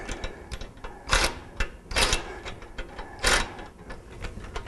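A bolt being tightened on a Jeep shackle during installation of a shackle reversal system, heard as a close, busy run of ratchet-like ticking and clatter with several louder bursts of scraping, no voices.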